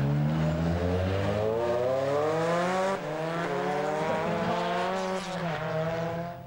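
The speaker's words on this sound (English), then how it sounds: "Bertie Fisher powers his Cosworth Sierra inside the Group N version of Gwyndaf Evans" A 1988 Ford Sierra Cosworth rally car races along a Welsh stage, its engine note loud and close, rising and falling through gear changes, with no voices heard.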